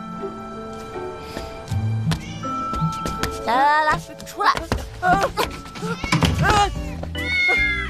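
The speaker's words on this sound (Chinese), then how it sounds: "哇，好可爱的小猫咪" A small kitten meows repeatedly in high, rising cries, close by, mixed with a person calling to it and background music.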